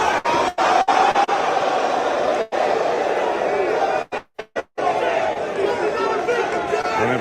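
A boxing weigh-in crowd chatters and roars loudly and continuously, broken by a few brief sharp dropouts, with voices mixed into the din.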